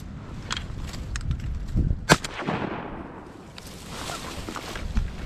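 A shotgun blast while duck hunting, one sharp loud report midway through, followed by a fading rumble over steady outdoor background noise.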